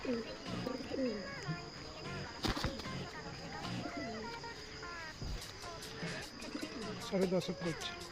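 Pigeons at a backyard pigeon sale coo softly and flutter at a distance, faint beneath people talking nearby.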